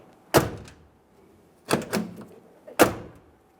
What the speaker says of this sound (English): let's just test the door functionality one last time